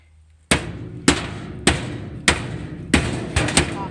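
Five sharp metallic knocks from a hammer knocking off metal brackets strike at roughly even intervals, close and loud, each ringing briefly before the next blow.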